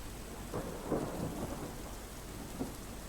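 Low rumbling thunder rolls beneath a steady wash of night rain in Limbdi, Surendranagar, with a few soft booms standing out.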